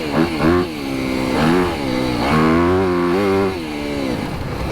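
A stock 2025 Yamaha YZ250FX dirt bike engine revs repeatedly, loud and close, its pitch rising and falling in several surges with short blips between.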